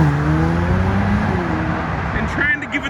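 A Ferrari F8 Tributo accelerates hard as it leaves a Houston car meet, its loud engine rising in pitch up close before traction control cuts the power near the end. A voice speaks over the engine.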